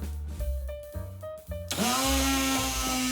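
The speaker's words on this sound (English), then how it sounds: "Spice grinder." An electric spice grinder starts up after some clattering and handling noises, then runs with a loud, steady whine for more than a second, close by.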